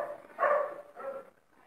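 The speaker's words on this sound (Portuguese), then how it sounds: "o cachorro do vizinho começou a latir." A neighbor's dog barks twice in a row, a strong bark followed by a shorter, weaker one, heard at moderate distance with no talking.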